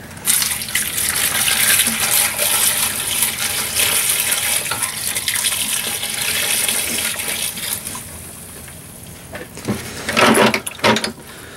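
White vinegar poured over copper sprinkled with table salt, a loud continuous close splashing pour lasting several seconds, then easing into softer trickles and a few final splashes, no speech.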